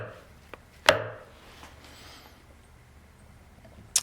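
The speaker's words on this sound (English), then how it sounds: "the difference in the sound of the chisel. Thwack, thwonk, buck, like that." A single sharp wooden thwack as a chisel strikes bottom at the bevel in wood, with a faint tap before it and another crisp knock at the very end in a quiet room.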